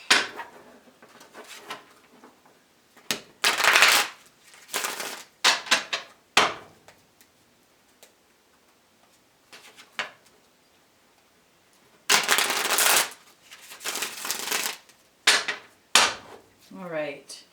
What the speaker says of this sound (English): We'll get 3 shuffles real quick.